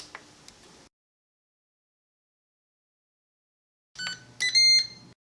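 An air fryer gives short electronic beeps, one near the start, then a quick cluster of button beeps a few seconds later while its temperature and timer are set. The beeps sound close in an otherwise quiet room.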